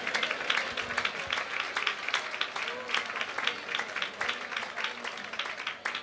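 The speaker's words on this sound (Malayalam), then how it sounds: "കൈയടിക്കുന്നവർ നന്നായി കൈയടിച്ചു." A church congregation claps rhythmically during a Malayalam Christian service, the steady beat of hands running under a preacher's speaking voice.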